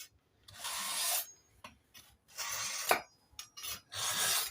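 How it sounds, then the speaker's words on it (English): A kitchen knife is drawn across a knife sharpener, three or four separate rasping scrapes with short pauses between them, close and fairly quiet. "you're going to need a knife sharpener. You first work your knives."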